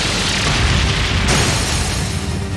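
The Brionac weapon firing in Trails of Cold Steel III, a sustained, powerful roaring blast that fills the whole range, with a sharp shift midway as the explosion surges on, loud and dense throughout.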